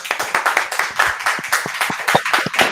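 A small audience at a psychology talk on ADHD in children gives a short burst of clapping, individual hand claps distinct and close, with no voices.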